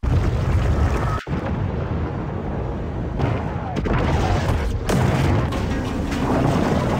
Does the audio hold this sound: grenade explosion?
yes